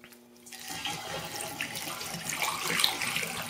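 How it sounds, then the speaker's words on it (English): Tap water runs steadily into a 20-liter carboy for home-brewing a wheat beer kit, a broad rushing splash that swells in after a brief quiet start and continues alone. "I'm going to start filling up the carboy."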